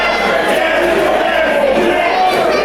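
A wrestling crowd in the Camelot Ballroom in Overland Park, Kansas roars steadily as the champion riles them up. The dense, loud wall of cheering and yelling fills the room without a break.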